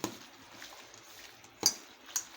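Mutton being stirred with salt in a metal pot for marinade, giving a few soft scrapes and two sharper clinks of a spoon against the pot, quiet and close with no talking.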